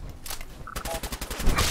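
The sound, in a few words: gunfire from enemies in the video game Fallout 4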